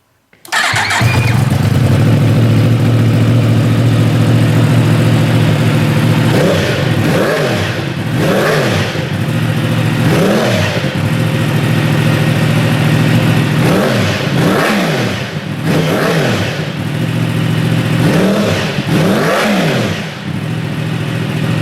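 A 2015-2017 Yamaha YZF-R1 sport motorcycle with a Hotbodies MGP slip-on exhaust starts up and idles with a deep rumble, then is revved repeatedly in short, loud bursts through a throaty exhaust.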